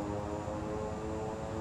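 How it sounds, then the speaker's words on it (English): Airliner engines roaring steadily at high power during reverse thrust on the landing rollout in Microsoft Flight Simulator, a dense continuous drone with no pauses. "Reverse the engines."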